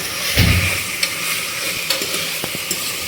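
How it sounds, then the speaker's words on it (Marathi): Marinated mutton sautéing in hot oil in a pan, with a loud, steady sizzle and occasional stirring clicks and scrapes close by, no voices. "तेलावर असं छान परतून घ्या"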